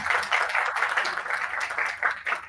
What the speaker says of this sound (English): Round of applause to you.